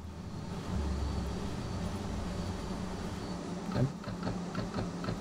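Train braking in Train Sim World 2, a steady low rumbling hiss of rolling stock and brakes that holds through the whole stretch, with a brief louder clunk near the end and faint clicks over the top.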